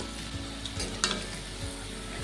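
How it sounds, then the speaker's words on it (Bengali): Steady sizzling of palm puli pitha deep-frying in hot oil, a continuous crackle with a few brief pops, no voices. "তেলে সুন্দর করে ভেজে নেব"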